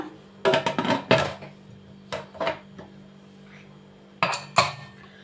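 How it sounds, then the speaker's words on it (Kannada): Metal pressure cooker lid being fitted and closed over a pot of spicy chicken donne biryani, a series of sharp clanking and clinking bursts in two clusters with quiet pauses between, close and fairly loud. "ಕುಕ್ಕರ್ ಮುಚ್ಚಳ ಮುಚ್ಚಿಬಿಡೋಣ."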